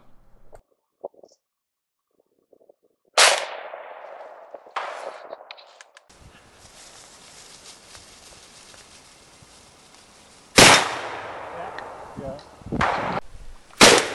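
Black powder rifle fired at a target on an outdoor sportsmen's trail-walk shoot in Niantic: several sharp, loud blasts with fading tails, separated by quieter stretches of faint background noise.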